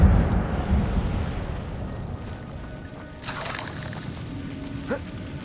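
Incendio fire spell in the Hogwarts Legacy video game: a rumbling, rushing burst of flame rising from a low roar into a brighter crackling whoosh, with a faint chime, in a forest setting.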